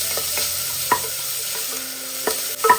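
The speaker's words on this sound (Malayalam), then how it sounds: "ഒരു 10 സെക്കൻഡ് ഒന്ന് ഇളക്കി കൊടുക്കാം." Crushed ginger and shallots fry in a pan with a low, steady sizzle, while a spatula stirs them in a handful of sharp scrapes and taps spread across the short stretch.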